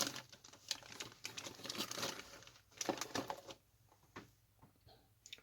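Black plastic bags from a 1:48 scale Airfix Westland Lysander model kit box being handled, with close, loud crinkling and rustling in bursts, some sharper crackles, then quieter handling toward the end, no talking.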